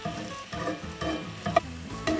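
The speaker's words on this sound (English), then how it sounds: "You just want to keep turning it over so the leaves that are not done get to the pan and soften up" Greens wilt in a pan over medium-low heat with a little salt, giving a soft steady sizzle while a utensil stirs and turns the leaves in quick scraping strokes, quiet and close.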